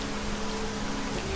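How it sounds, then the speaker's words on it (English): Rain in the video game Niche, a steady broadband hiss of falling rain with a low hum beneath, short and continuous without talk. "It's raining"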